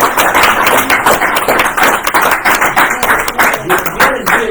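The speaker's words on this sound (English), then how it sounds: "Big round of applause for it," Loud applause and clapping from a group at a town council meeting, close and dense with individual claps standing out, continuing steadily throughout.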